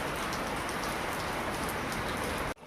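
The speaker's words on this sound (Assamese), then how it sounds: "আৰু পূৰা বৰষুণ দি আছে" Heavy rain pours steadily outside a doorway, a dense, close, even roar of drops hitting the ground that cuts off abruptly at the end.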